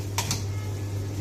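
A pressure cooker lid is shut and locked in a home kitchen, giving two quick, sharp clicks close by over a steady low hum.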